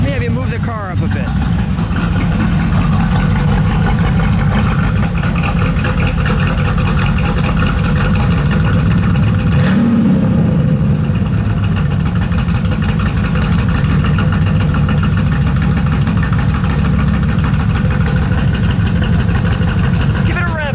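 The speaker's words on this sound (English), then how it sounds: "Give it a rev, please." A 1959 Pontiac Catalina 389 Tri Power V8 rumbles nearby, rising in a single rev around the middle before settling back to a steady idle, with people talking over it.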